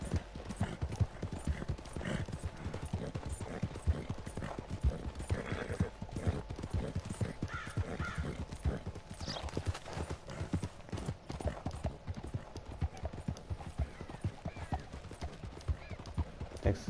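Horse hooves clip-clop steadily in the video game Red Dead Redemption 2, a continuous rhythmic clatter of a ridden horse on the move, with occasional snorts and whinnies.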